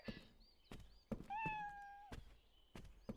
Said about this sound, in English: Stock kitty noise. It doesn't even change.